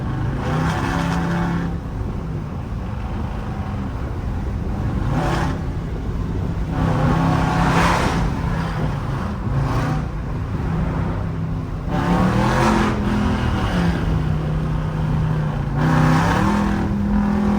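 Car accelerating through rush hour traffic, a loud close engine drone that repeatedly climbs in pitch with each gear and eases back, cycling several times.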